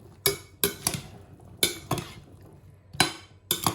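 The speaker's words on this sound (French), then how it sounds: "Voilà, je mélange." Chickpea salad being tossed with sauce in a bowl: a few sharp utensil clinks and scrapes against the dish in irregular bursts, close and clear, with quiet stirring between them.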